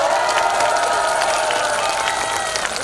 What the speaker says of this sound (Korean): 우리 옆에 계신 분들 박수 한번 쳐주세요